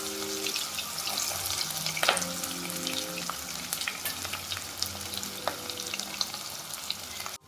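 Sliced onions hiss and crackle in hot oil with whole garam masala, cardamom, cinnamon, cloves and cumin, for a homestyle chicken curry; steady close sizzle with a few sharp pops and utensil knocks.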